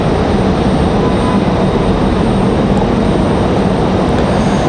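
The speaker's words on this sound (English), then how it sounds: "Like this A320's taking their sweet time here." An Airbus A320 jet airliner at Raleigh-Durham airport gives off a loud, continuous low engine rumble and roar, steady from start to finish with no voices.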